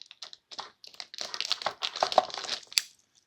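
A subscription box package from Cloth & Paper is cut open, giving a quick run of close crinkling, scraping and tapping noises of cardboard and packing material, quiet and without talk.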